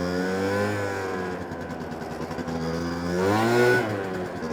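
A 1993 Honda Dio SR Special Edition scooter's small engine buzzes steadily close by, its pitch sagging then climbing sharply in a rev near the end.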